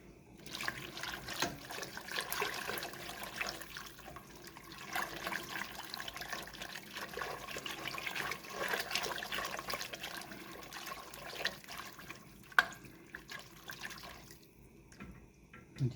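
Liquid is poured into a pan of enchilada sauce, giving a soft, continuous trickling and splashing at moderate distance that swells and fades, ending with a brief clink.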